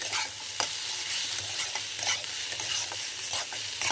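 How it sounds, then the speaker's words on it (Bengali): Puti fish with green tomato masala and turmeric sautés in a pan over medium flame, making a constant loud sizzle with frequent scraping stirs and clinks throughout. No one speaks. "হাফ হলুদ দিয়ে আমি এটাকে এখন ভালো করে কষিয়ে নেব।"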